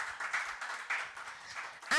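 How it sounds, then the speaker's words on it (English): A crowd claps in applause at a civil service panel event, a continuous even patter of many hands at moderate volume, with no voices over it and a sharp final burst at the end. "Can we give him a huge round of applause?"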